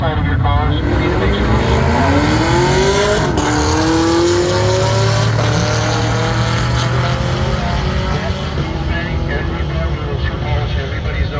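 Drag racing cars roar down the track at a drag-and-drive event, engines revving with rising, loud, continuous sweeps close by, a voice faintly audible underneath.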